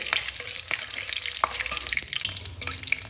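Cumin seeds sizzling and frying in oil in a pan while being stirred, crackling steadily with scraping spoon strokes and small pops throughout.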